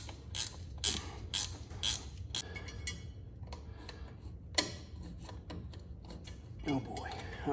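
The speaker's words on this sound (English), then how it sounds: "I'm gonna go get a 1/2-inch wrench" A 1/2-inch wrench works on a Ford 3930 tractor during a power steering leak repair, making a quick run of close ratcheting clicks followed by scattered softer metallic ticks and creaks.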